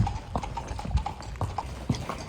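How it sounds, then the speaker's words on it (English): Horses walk along with a steady, close clip-clop of hooves, regular hoofbeats repeating over low outdoor background noise. "we'll take these horses in"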